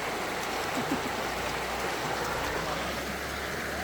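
A river flowing near a picnic spot, its water rushing in a steady, close, unbroken wash with no clear voices over it.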